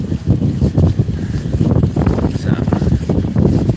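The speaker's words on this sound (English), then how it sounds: "It is another windy day, unfortunately, but it's not too hot." Wind buffets the microphone in loud, rumbling gusts while cycling through a park on an overcast day, with a person talking over it.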